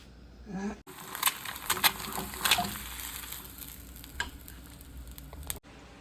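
Fish cooks with potato in a pan, a continuous crackling sizzle with sharper pops and spatters early on, then settling into a softer, even fry.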